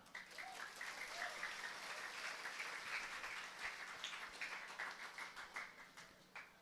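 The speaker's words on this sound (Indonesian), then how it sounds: "Alhamdulillah, tepuk tangan" A sermon audience applauds, a faint, even patter of clapping that thins into scattered individual claps toward the end, with a few voices faintly audible.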